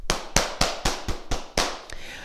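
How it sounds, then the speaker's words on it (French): A small group claps together in steady unison after a children's martial arts exercise: about seven sharp, evenly spaced claps, close and crisp, ending in a brief scatter. "Et on s'applaudit par vous"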